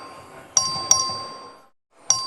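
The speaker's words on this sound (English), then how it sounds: "The clerk will ring the bell." Three sharp bell dings ring through a legislative chamber as the clerk calls a record vote, each strike bright and metallic with a ringing decay; the first two come close together and a third follows after a brief silence.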